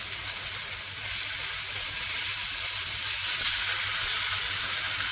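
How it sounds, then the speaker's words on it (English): Ginger garlic paste sizzles in a pan with minimal oil as it is mixed in for an egg gravy, giving a steady close hiss that swells slightly after the first second and holds evenly. "To this, we are going to add our ginger garlic paste completely. And mix it really well."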